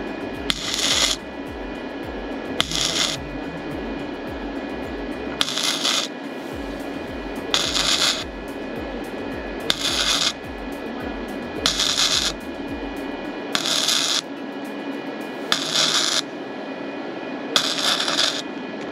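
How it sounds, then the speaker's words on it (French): Welding a glasspack muffler onto the exhaust of a Toyota LJ70: about eight short, regular bursts of crackling arc noise, each lasting around a second, separated by pauses with a steady background hum. "Bon, j'ai terminé ma soudure"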